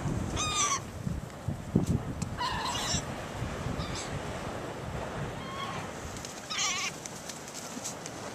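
Seagulls calling at a snowy seaside in Seaside Heights: several sharp, repeated squawking cries come in bursts a few seconds apart over a steady outdoor rumble, some fairly close and loud.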